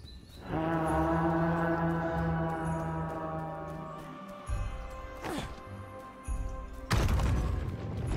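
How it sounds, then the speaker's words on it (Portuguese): A long, deep horn blast in the video game Tribes of Midgard sounds loud and sustained with rich harmonics, followed by heavy game impact crashes and booms. "Tocar a corneta dos cornos."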